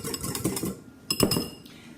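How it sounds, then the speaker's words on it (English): A whisk clinks and rattles rapidly against a bowl while homemade salad dressing of oil and an acidic base is beaten together, with busy metallic tapping, a brief pause, then a second sharper burst of clinking. "I'm just whisking that all together until it's nice and creamy and thick and beautiful"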